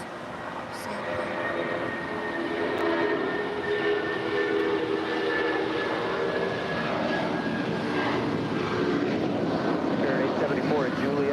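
A China Southern Cargo Boeing 777 freighter passes overhead near the airport, a loud, sustained engine roar and rumble that swells and holds across the whole stretch, with voices talking over it.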